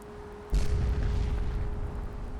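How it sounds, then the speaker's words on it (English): A sudden heavy boom from an explosion in the game Fallout 4 bursts in after a quiet start, then trails off into a long rumbling decay. "More explosions."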